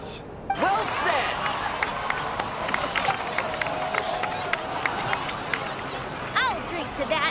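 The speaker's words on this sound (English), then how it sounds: "please give another round of applause for them" Crowd in the video game Genshin Impact cheering and applauding, a busy spread of clapping and whoops under game music, with a few sharp effect sweeps.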